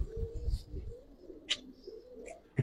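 Giribaz pigeons of the Palla line coo low and soft inside a loft, with a few short, sharper bird sounds breaking through the steady murmur.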